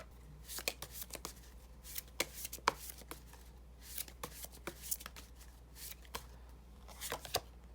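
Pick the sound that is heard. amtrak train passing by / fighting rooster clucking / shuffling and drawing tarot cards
shuffling and drawing tarot cards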